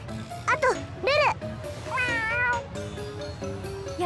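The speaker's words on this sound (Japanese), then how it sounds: "うちのスポンサー様の猫なの。" Cat meows from the video game Tales of Xillia 2, several short rising and falling mews close up over a steady game music bed, with a voice briefly heard.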